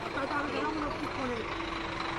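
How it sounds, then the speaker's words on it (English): A bus idles behind a news reporter at a political gathering in Rajasthan, giving a steady low engine rumble with a faint tonal hum under the street noise throughout. "You can see this bus behind me."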